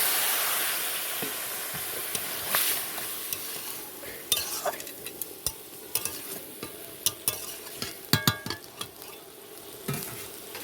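Water poured into a frying curry with egg and raw mango, a soft sizzle under scattered stirring and clinks of utensil against pan, close and fairly quiet.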